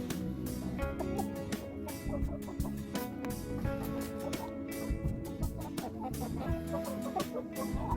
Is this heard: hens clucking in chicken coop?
yes